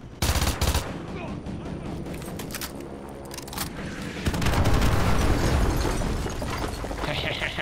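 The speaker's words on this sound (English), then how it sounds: "Fire mission received. Artillery inbound." Artillery fire and rattling gunfire in Call of Duty Modern Warfare 2 Remastered: a burst of sharp shots, then a stretch of layered battle noise swelling into a heavy, continuous roar of explosions.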